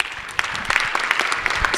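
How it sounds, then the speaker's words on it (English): Audience applause at a gubernatorial forum, a brief burst of scattered hand claps with a few sharper individual claps standing out, fairly close and moderately loud, with no talking over it. "please hold applause till the end"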